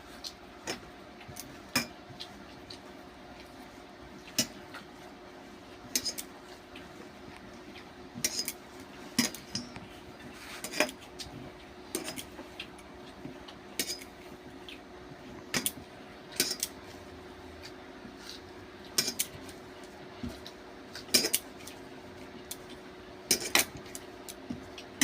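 Dough of flour and semolina for rasgulla being kneaded by hand in a bowl, with soft repeated pats and sharp clicking contacts recurring irregularly throughout, close and fairly quiet.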